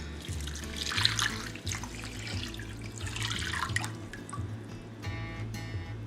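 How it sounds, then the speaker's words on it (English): Water runs steadily into a slow cooker with a splashing, trickling rush over a low hum, ending in a few drips. "then we'll add in our water"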